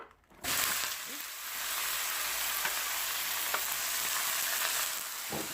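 Seasoned mince, marinated with lemon, garlic and ginger, hits a lightly oiled pan and sizzles loudly and continuously at close range after a brief quiet start, with a few faint clicks of a utensil.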